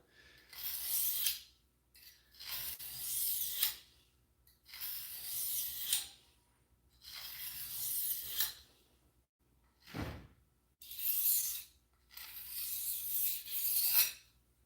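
A knife blade is drawn repeatedly across a sharpening stone, making rhythmic rasping strokes about every two seconds, close and fairly quiet, with brief pauses between passes.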